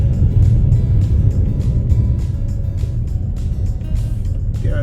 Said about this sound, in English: We've got the buses.